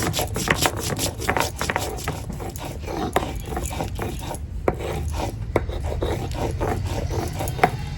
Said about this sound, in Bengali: এখন এই গোটা গরম মশলা বেটে নেবো